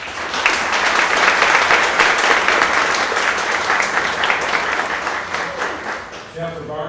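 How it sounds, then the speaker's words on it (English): An audience applauds for board trustees at a college president's welcome event, a sustained burst of clapping that stays steady and then tapers off, with a voice starting up near the end. "Please, round of applause."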